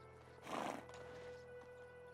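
A single short neighing bray from a donkey in a donkey shelter in Medieval Dynasty rises quickly and fades within a second over a faint, quiet background.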